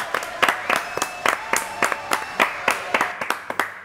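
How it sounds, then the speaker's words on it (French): Audience applause in a small French variety-show venue, with uneven bursts of clapping repeating about every half second, moderately loud and fairly close. "Allez, applaudissements pour Michel Monaco."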